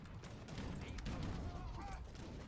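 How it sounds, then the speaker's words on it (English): Cannon fire from an Age of Empires III battle, a dense, continuous rumble of booming shots and battle clatter that stays steady and loud throughout without clear separation between blasts. "Come on, cannons, fire."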